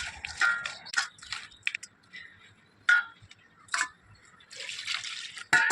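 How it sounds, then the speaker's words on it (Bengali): Fresh-cut fish, scrubbed with salt to loosen the scales, rinsed under running water, giving bursts of splashing and trickling with short dripping taps in between, close and moderately loud. "জল দিয়ে ভালো করে ধুয়ে পরিষ্কার করে নেবো"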